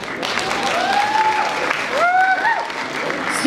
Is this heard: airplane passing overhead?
no